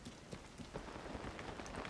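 Steady rain pattering on surfaces in Zelda: Tears of the Kingdom, a dense soft hiss with scattered drop ticks across the whole short stretch, no voices.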